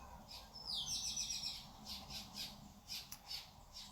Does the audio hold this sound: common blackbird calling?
yes